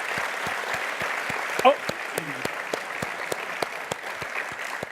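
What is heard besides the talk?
audience clapping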